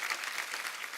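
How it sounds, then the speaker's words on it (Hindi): A short burst of studio audience applause on a comedy talk show, honoring veteran film actresses Waheeda, Asha and Helen, dense and even clapping from a crowd over about a second. "एक बार वहीदा जी, आशा जी और हेलन जी के लिए जोरदार तालियां हो जाएं।"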